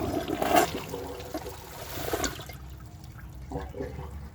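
A Gerber Maxwell wall-mounted toilet flushes with a grocery bag in the bowl: a strong rushing surge of water for a couple of seconds, then a quieter trickle and gurgle as the bowl refills.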